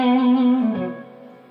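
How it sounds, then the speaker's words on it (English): Electric guitar with humbucker and middle single-coil pickup through a distortion channel, a single sustained distorted chord ringing out and slowly decaying with a slight pitch shift. "Gives you the distortion from the humbucker, but it also gives you some brightness from the single coil."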